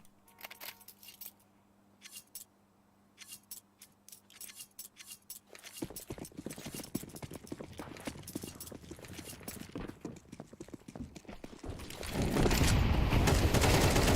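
Tech-9 pistols firing in a Counter-Strike esports match: quiet clicks and sparse sharp shots at first, then a busy stretch of rapid gunfire and clatter that turns loud and dense at the end.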